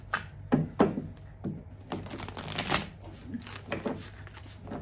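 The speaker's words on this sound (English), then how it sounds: "now let's take the the tarot and see what we also have there. A little shuffle here." Tarot cards being shuffled by hand, a series of papery riffles and soft slaps in uneven bursts, close up over a low steady background hum.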